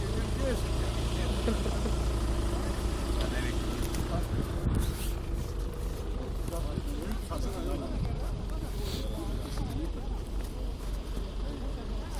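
Race car engines at an ice-track race run in the distance with a rising and falling hum, under nearby spectators talking.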